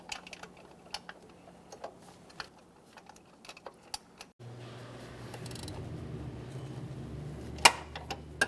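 A tensioner mounting bolt is tightened on a 2010-2013 Kia Forte Koup 2.4L four-cylinder engine: light, evenly spaced ratchet-like clicks come first, then a steadier mechanical hum takes over with a few sharper clicks, all close and fairly quiet.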